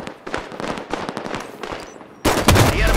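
Rapid automatic gunfire in Halo 5: Guardians during a Big Team Battle match, a dense rattling stream of shots that gives way to a louder, heavier burst of firing and explosions near the end.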